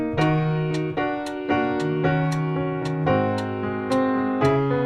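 A verse and partial chorus chord progression played steadily in time with a metronome, sustained chords changing roughly every beat or so with bright struck attacks, clear and alone without talk.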